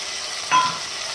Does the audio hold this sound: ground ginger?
yes